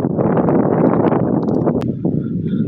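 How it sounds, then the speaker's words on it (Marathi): Strong wind buffets the microphone on a hilltop beside a temple, a loud, steady low rumble that eases off briefly near the end. "वारा डेंजर वाजते इथं."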